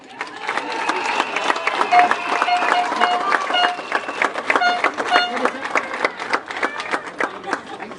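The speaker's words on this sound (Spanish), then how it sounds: "me pedi forte aplauso para ele" Applause from an audience greeting Aruba's minister plenipotentiary at a public gathering, a steady crowd of clapping with scattered voices and music-like tones running through it for several seconds.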